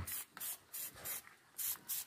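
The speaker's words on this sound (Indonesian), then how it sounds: "ini yang sudah muncul beri semprot saja" Repeated bursts of a hand sprayer misting MKP fertilizer solution onto Jupiter grape flowers and leaves, about six short hissing sprays in a steady rhythm, close and clear with no talk.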